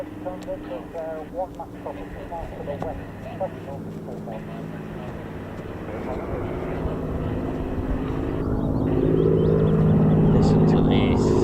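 Vintage RAF bomber of the Battle of Britain Memorial Flight departing from RAF Coningsby, propeller engines droning steadily and swelling louder toward the end, with voices talking over the first half.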